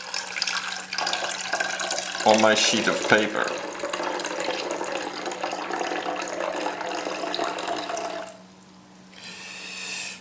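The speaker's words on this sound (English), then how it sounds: "pouring water" Water poured into a container for a paper chromatography setup, giving a steady close splashing stream that stops near the end, while a person speaks briefly over it.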